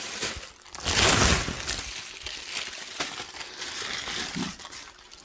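Crinkly rustling and crumpling of thin carbon paper being handled up close, with soft scratchy bursts and a few light taps, no talking.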